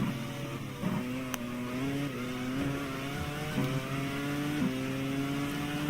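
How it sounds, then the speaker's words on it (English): A race car in the F1 racing game GPRO accelerates toward Monza's Parabolica corner, its engine rising in pitch repeatedly through quick gear changes, a steady loud whine with regular upshifts. "Accelerating now down towards the Parabolica."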